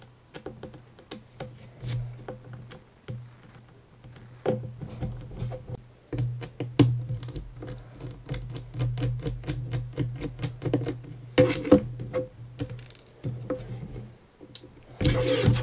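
Small 00 Phillips screws being backed out of a Samsung Galaxy S4 phone during a charging-port repair, giving a run of light, irregular ticks and clicks close by over a steady low hum, with no talking.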